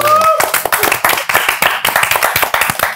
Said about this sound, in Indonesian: Tepuk tangan dong buat hari ini